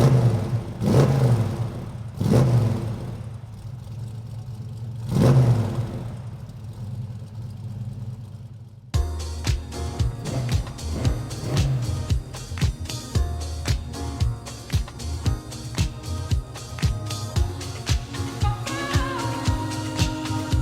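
A restomod 1964 Chevrolet Nova on a test drive: deep engine rumble swelling in a few revs, then a denser, continuous road and engine roar with rhythmic pulses as it drives on, fairly loud and close.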